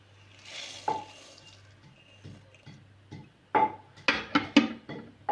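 Vermicelli is stirred into milk in a pan, giving sparse, quiet scrapes and soft taps of a spoon, with a faint simmering hiss underneath and a quick cluster of sharper clinks toward the end.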